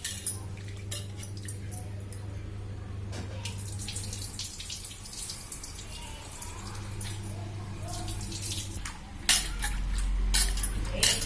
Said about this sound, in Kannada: Drain the water and wash it 3 to 4 times.